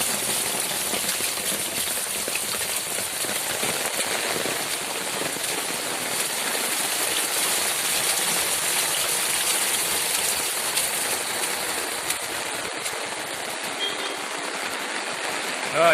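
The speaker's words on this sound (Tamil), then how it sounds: "இப்போ பாருங்கள் மழை எப்படி பெஞ்சிருக்குன்னு." Heavy rain pouring down with water running and streaming, a loud, steady hiss of downpour that continues unbroken for the whole stretch.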